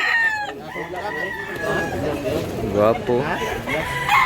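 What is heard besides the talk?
rooster crowing and clucking at a market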